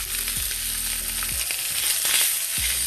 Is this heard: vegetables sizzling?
yes